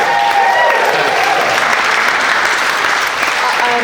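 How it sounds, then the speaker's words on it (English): Wedding guests applaud the bride as the speeches wrap up, a loud, continuous wash of clapping throughout, with a few voices faintly mixed in. "Give her a clap."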